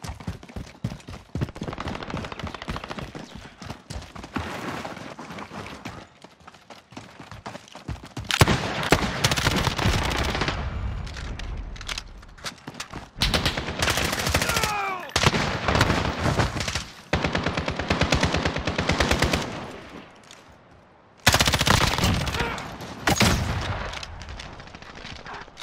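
Gunfire in Call of Duty multiplayer, with long sustained bursts of automatic fire broken by short pauses and heavy single shots, loud and close throughout.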